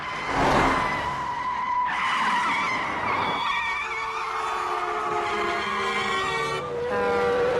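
A car skidding to a sudden stop on a road, long wavering tire squeals that shift pitch over several seconds, loud and close.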